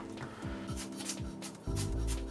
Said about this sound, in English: Pull out the core, just dice that pretty easily.